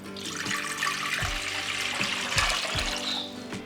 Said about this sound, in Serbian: Sad ću u šerpu sipati litar vode